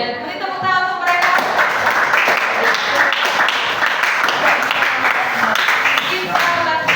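Applause from a class for group 4 after their presentation, a burst of clapping that starts about a second in and carries on steadily, with some voices and tonal sounds mixed in.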